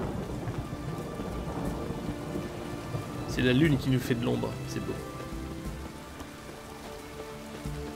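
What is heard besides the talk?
rain and thunderstorm in video game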